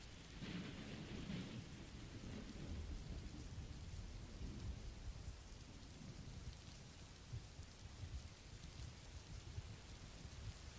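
Heavy rain falling steadily around a cabin in the woods, with deep rolling thunder rumbling through the downpour; a continuous, dense storm ambience with no talking.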